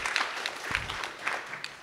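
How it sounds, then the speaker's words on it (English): Audience members at a leadership and philanthropy session clap in short, scattered applause, faint and uneven with individual claps standing out. "I wanted to make sure that we clap hands for IPASA."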